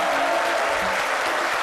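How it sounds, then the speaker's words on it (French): Loud, steady applause from a television studio audience on a French midday talk show, a dense clapping wash with no voices. "bienvenue Néba, que je vous demande d'applaudir très très fort"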